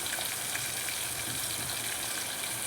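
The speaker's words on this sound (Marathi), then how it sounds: "आता मी हे राय टाकते." Mustard seeds crackle and sizzle steadily in hot oil in a blackened, very hot pot alongside cumin, a dense, close, continuous frying hiss.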